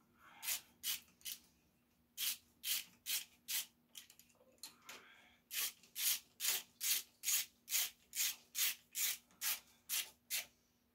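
A 13 wrench tightens fittings on a mud mower, giving a series of quiet rhythmic ratcheting strokes, about eighteen short rasps in steady bursts with a brief pause partway through.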